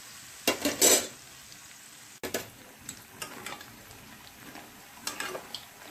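Raw banana pakoras frying in oil, with a soft steady sizzle broken by clattering stirs and scrapes of a utensil in the pan, a few louder clanks near the start.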